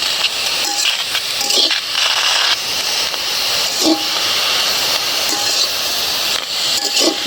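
Garlic leaves hit hot oil in a wok with a loud, continuous close sizzling hiss, broken by a few faint metallic clinks from the pan.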